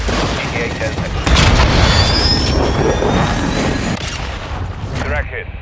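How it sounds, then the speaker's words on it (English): Cruise missile strike in Call of Duty: Modern Warfare II, a loud continuous roar of jet engine and heavy booming blasts with rumbling gunfire throughout, under game radio voices. "Target 3-1, watch the cruise missile"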